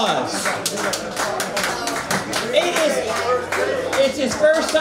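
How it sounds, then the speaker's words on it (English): Audience applause at a small stand-up comedy night in a Richmond, Virginia venue, a scattered round of clapping with a few shouts over a low background hum. "Give him another round of applause."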